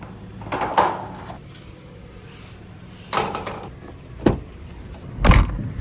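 Vehicle being taken out and a door being shut, heard as a few separate sharp knocks and thuds spread over several seconds against a low steady rumble, with no talk.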